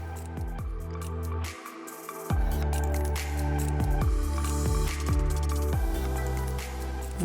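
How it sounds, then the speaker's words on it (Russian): Thick mud bubbles and pops in a mud volcano at Gobustan, Azerbaijan, a steady run of wet, gloopy bursts about every half second, close up and fairly loud with no voices. "Прикольно наблюдать эти небольшие кучки грязи, булькающие словно густой суп-пюре."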